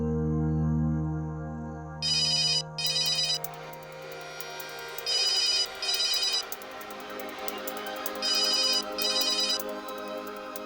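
A phone ringtone plays in repeated bursts of bright electronic tones, three rounds with pauses between, following a low sustained hum at the start.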